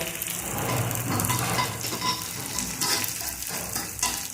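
Loud, dense crackling sizzle of onion frying and charring in a cast iron pan, with stirring scrapes and occasional bursts of spitting, close up and without speech.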